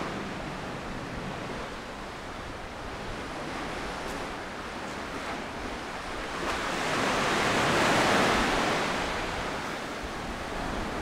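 Ocean surf rolls onto the beach at Cathedral Cove as the tide comes in, a steady broad wash of waves that swells louder midway, with no talk.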